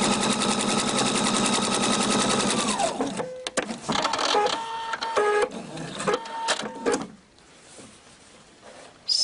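A Husqvarna Viking sewing machine stitching with a piping foot runs in a fast, steady close whir for about three seconds, then stops, followed by clicks, handling knocks and a quieter burst of machine noise.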